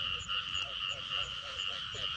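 Small frogs croak in a flooded rice field, a rhythmic chorus of repeated calls pulsing several times a second, near and steady, with no voices.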